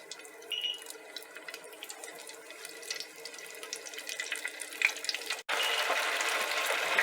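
Alligator pieces go into hot oil for frying, cooked in batches: a steady watery hiss that swells abruptly into a louder, fuller sizzle near the end as the batch is dropped in.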